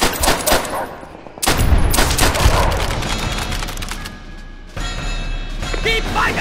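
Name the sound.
artillery fire in Call of Duty: World at War video game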